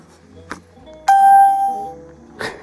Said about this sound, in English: they use the Windows ding sound as the startup sound